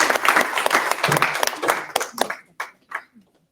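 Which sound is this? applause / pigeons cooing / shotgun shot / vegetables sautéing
applause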